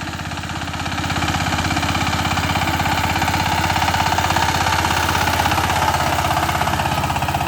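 A Saifeng power tiller, a 28-blade ploughing machine, runs steadily. Its engine throbs in a close, loud, continuous rhythm that settles after a short rise in the first second, and no one speaks.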